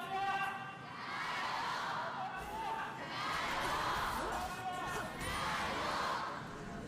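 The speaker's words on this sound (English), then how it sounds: "We got a lively crowd now" An arena crowd at a League of Legends esports match between JDG and LGD swells and fades in waves of cheering and whooping, moderately distant, under ongoing commentator talk.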